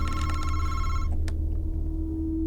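A telephone rings in the horror video game Madison, a rapid electronic bell trill that stops after about a second, with a low steady rumble and hum underneath.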